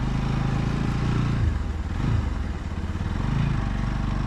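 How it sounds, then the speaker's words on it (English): Motorcycle engine in chilly mountain weather near Kalasa, struggling to start: a loud, close, low rumbling engine drone that surges and dips unevenly as it catches and revs, with no talking. "And I had a bit of trouble starting the vehicle"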